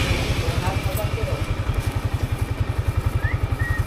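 A motorcycle engine runs close by in a rapid, steady low putter, with faint chatter and brief high chirps in the background.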